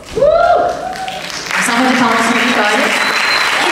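An audience at a school music show applauds a young drummer, a broad burst of clapping and cheering that swells after a loud voice and holds steady, with voices mixed in.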